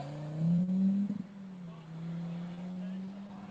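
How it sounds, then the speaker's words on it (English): Car climbing up a rocky valley trail at an off-road trial, its engine note rising and revving hard at first, then settling into a steady distant drone under talk. "Next car just coming up the valley."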